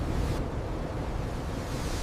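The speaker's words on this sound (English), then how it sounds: "The wind tears the tops off the waves." Storm waves and wind at sea in the Drake Passage, heard from a ship as a dense, continuous roar of surf and gusting wind with no breaks.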